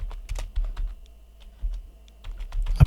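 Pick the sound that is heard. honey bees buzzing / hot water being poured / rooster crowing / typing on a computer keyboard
typing on a computer keyboard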